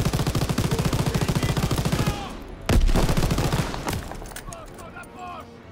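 Rapid automatic gunfire in Call of Duty: WWII during a Normandy landing rattles loudly in a sustained burst, breaks off, then resumes with another volley before fading into scattered shots.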